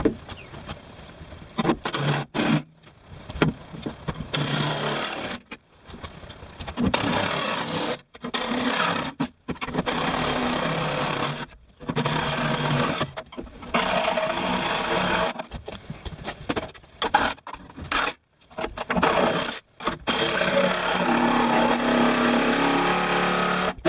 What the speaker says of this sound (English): I'm just going to go grab my saw, cut all the way around that fiberglass stuff